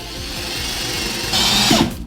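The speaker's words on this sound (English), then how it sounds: "Now I've got a drill bit that's a little bit bigger than the bolt." A drill bores through rattan with a steady whirring that rises louder partway through as the bit bites in, then stops abruptly.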